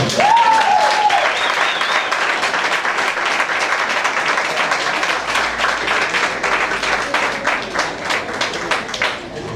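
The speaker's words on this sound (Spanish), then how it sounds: "podemos dar un mejor aplauso" A church congregation applauds during a Spanish-language prayer service, steady loud clapping that goes on throughout, with a brief whistle-like tone near the start.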